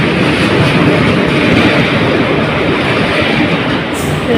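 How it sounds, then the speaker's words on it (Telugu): A passenger train pulls into a station, a steady loud rumble with a broad roar that continues for several seconds, and no voices are heard. "ఇప్పుడు మా ట్రైన్ వస్తుంది,"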